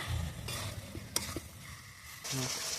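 Spiced mutton stir-fried (kosha) in a pan in a village kitchen, soft sizzling with scraping stirs and a couple of sharp utensil knocks against the pan, close and fairly quiet, no talk.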